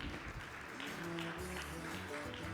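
Audience members at a tourism leadership forum panel session clap for the panelists in a brief, moderately faint burst of applause with a low hum of room tone underneath.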